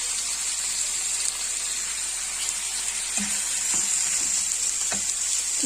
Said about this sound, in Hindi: चिकन को थोड़ा सा फ्राई करेंगे